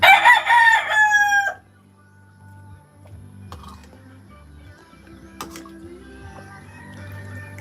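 A rooster crows loudly and close by for about a second and a half, then the scene drops to quiet background noise with faint scattered clatter.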